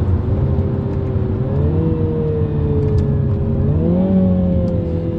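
A deep, throaty car exhaust drones steadily and loud, its pitch rising gently twice as the engine accelerates.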